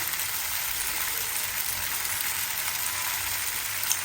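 Chopped green chilies hit hot oil in a frying pan while pasta is being made, giving a steady, loud, even sizzle that holds without a break and with no voices over it.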